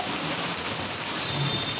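Heavy unseasonal summer rain pours down in Pune, Maharashtra, a steady, dense hiss of downpour with no voices.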